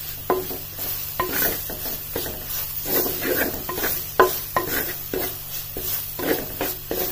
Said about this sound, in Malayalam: ഇഞ്ചി പച്ചമുളകും ഉള്ളിയും ചുവന്നുള്ളിയും വെളുത്തുള്ളിയും ഒക്കെ എണ്ണയിലിട്ടൊന്ന് ഇച്ചിരി നേരം ഒന്ന് ചെറുതായിട്ടൊന്ന് ചൂടാക്കി എടുക്കണം